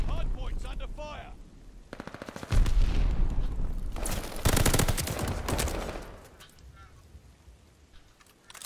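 Rapid machine-gun bursts and single gunshots in a Call of Duty: Vanguard ranked hardpoint match, loud and close, coming in dense clusters with brief pauses between them, while game voice lines play underneath.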